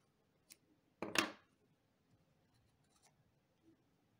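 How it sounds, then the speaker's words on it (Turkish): Scissors snip through crochet yarn at the end of a row of a crocheted knee warmer, one sharp close cut after a faint earlier click, otherwise quiet. "İpimi kesiyorum."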